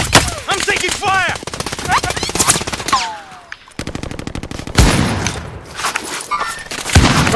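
Rapid automatic gunfire in a first-person military video game, loud dense bursts of shots nearly throughout with a brief lull midway.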